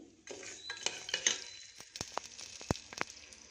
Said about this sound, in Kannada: ಹಾಕ್ತೀನಿ ಕಡಲೆಕಾಯಿ ಬೀಜ. ಇದು ಸ್ವಲ್ಪ ಫ್ರೈ ಆಗಲಿ.